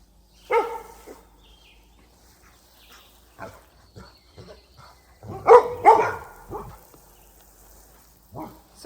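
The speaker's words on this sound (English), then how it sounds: "I don't even know what they're barking at." Several dogs on a farm bark in scattered bursts, one near and loud with others answering, with a louder cluster of overlapping barks partway through and a last bark at the end.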